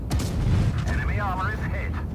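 Tank cannon shot and impact in the mobile game World of Tanks Blitz, a heavy boom opening into rumbling battle noise with a whining mechanical tone, loud and close throughout.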